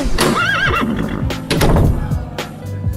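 A horse gives a loud, wavering whinny near the start, followed by clip-clopping hoof sounds and scattered thuds in a busy, close setting.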